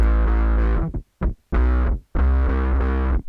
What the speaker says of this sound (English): It's an octaver and it sounds super cool